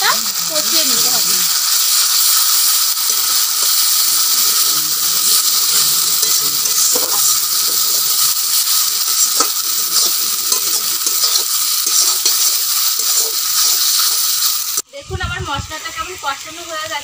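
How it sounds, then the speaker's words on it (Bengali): Dried chilli paste spice mix sautéing in a pan, giving a loud continuous sizzle and hiss with occasional scraping stirs, cut off near the end by a short burst of talking. "এবার দেব আমি শুকনো লঙ্কা বাটা, ভালো করে মশলাটা কষিয়ে নিতে হবে।"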